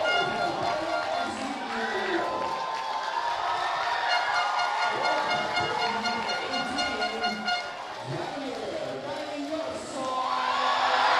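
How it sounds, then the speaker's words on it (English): A football stadium crowd roars steadily after a home-side go-ahead goal in a Philippine league match, Kaya FC-Iloilo against United City, with a commentator talking over the dense, sustained cheering. "Crowd on its feet."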